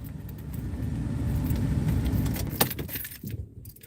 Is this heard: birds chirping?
no